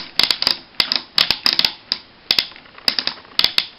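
Crisp plastic ratcheting clicks from a Cybertron Vector Prime toy figure's ratchet joints, in quick irregular bursts, close and fairly quiet, with nothing else around them.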